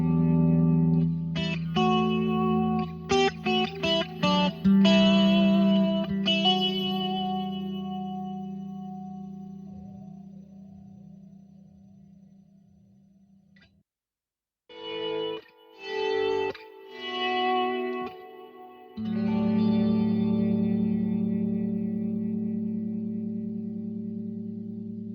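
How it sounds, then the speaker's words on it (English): BOSS GX-10 guitar processor running a Terra Echo delay on an electric guitar: loud strummed and picked chords ring out with trailing repeats that fade through a brief near-silence, then further picking and a sustained chord, with no talking. "Let's say I like the Terra Echo effect. I'm going to add that here."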